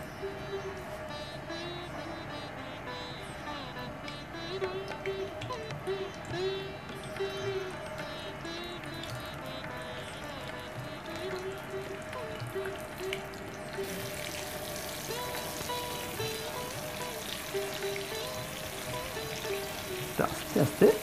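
Pointed gourd (potol) pieces frying in hot oil make a continuous soft sizzle that carries on for about twenty seconds over a faint tonal background, growing a little busier toward the end.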